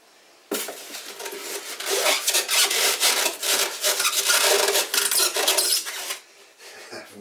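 Rough scraping and rubbing fill the air as the cardboard-like box of a Parkzone F4F Wildcat model plane is handled up close, with uneven strokes for several seconds before it quiets near the end.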